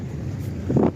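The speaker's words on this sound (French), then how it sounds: "Là, il y a du vent." Wind buffeting a phone microphone held outdoors during a motorcycle ride, a steady low rumble that swells louder near the end.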